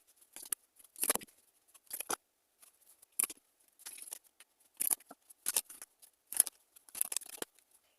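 Tarot cards are drawn and shuffled by hand, making short dry papery swishes and flicks in irregular bursts, close up and quiet against near silence, with no one speaking.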